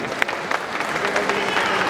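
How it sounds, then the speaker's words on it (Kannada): An audience applauds at a stage event for a Kannada film, a dense and steady burst of clapping that holds for about two seconds with voices mixed into it. "ಜೋರು ಚಪ್ಪಾಳೆ ಹೊಡಿಲೇಬೇಕು ನಾವು"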